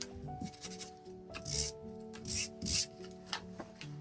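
Rough scraping strokes of a sanding block on paper come in short bursts, with a faint musical tone running underneath.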